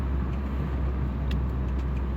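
1986 Honda Accord hybrid with a swapped Integra transmission driving along, a steady low engine and road rumble from inside the car.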